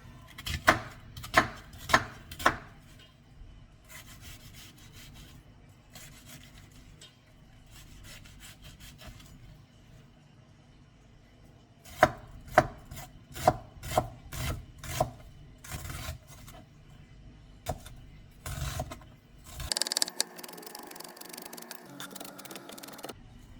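A knife chops an onion into small cubes on a board in quick bursts of sharp, regular taps, pausing between rounds, close up with no talking.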